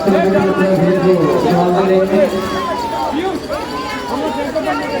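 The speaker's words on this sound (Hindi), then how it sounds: "आज काफी भीड़ है" A large crowd chatters loudly at a Bhagavat Katha celebration of Krishna's birth, many overlapping voices forming a dense, steady hubbub with a few louder voices rising out of it.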